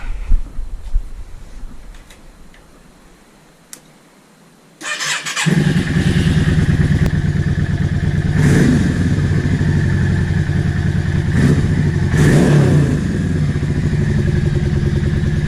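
A Yamaha XVS650 motorcycle engine fires up after a quiet stretch, then runs loud and close with a steady idle broken by several sharp revving bursts.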